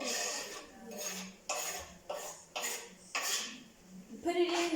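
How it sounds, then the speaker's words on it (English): A spoon stirring Italian sauce mix with cut pieces of tin fish in a pot, in repeated scraping strokes with a metallic clink at each pass, close by, the strokes separated by short quiet gaps. "You put it in, then you mix it. Let's move. So we are mixing."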